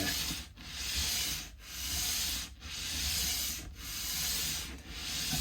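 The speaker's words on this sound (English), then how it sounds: "when I'm sanding saddles, I rock with the saddle held still from side to side" Steady abrasive sanding strokes on the saddle of a Yamaha F310 acoustic guitar, a rhythmic back-and-forth rasp with brief pauses roughly every second, close and continuous.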